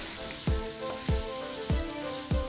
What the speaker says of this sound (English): just toss those onions around a bit